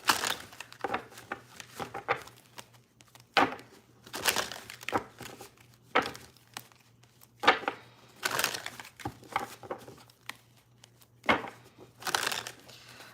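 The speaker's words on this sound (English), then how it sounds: "Let's do a few more shuffles." Tarot cards being shuffled during a live reading, a series of crisp papery riffling bursts and soft slaps repeating in irregular rhythm, close and fairly quiet, with no speech.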